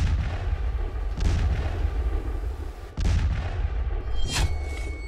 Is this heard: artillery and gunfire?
yes